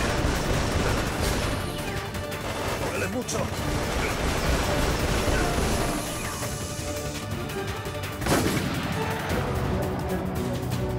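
Gunfire rattles through a Resident Evil: Operation Raccoon City play session, dense bursts of shots and crashes with sharp louder blasts standing out, all under a player's talk.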